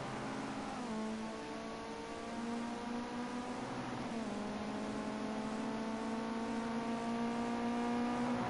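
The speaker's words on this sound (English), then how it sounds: "as we watch Seeks 44 making his way around the track for his outlap" Ginetta Junior race car lapping the Silverstone National circuit, a sustained engine drone that shifts pitch as it accelerates, heard at a steady distance throughout.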